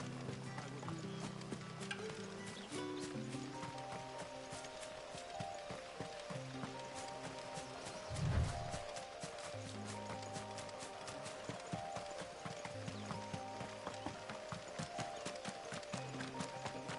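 A riding mount in Final Fantasy XVI trots with steady, rhythmic hoofbeats over soft game music, the footfalls even and moderately close, with a single heavier thud midway.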